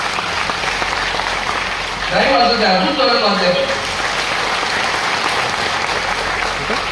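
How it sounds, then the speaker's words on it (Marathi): Dense, continuous applause from a crowd fills the clip, with a voice speaking briefly over the clapping in the middle. "त्याला जोरदार टाळ्यांचा गजरा टाळ्या जरा जोरात पाहिजे"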